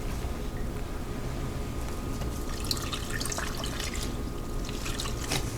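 Water poured into a pressure cooker while making shrimp scampi ramen, a steady close trickling and splashing with drips that runs continuously and alone, no talking.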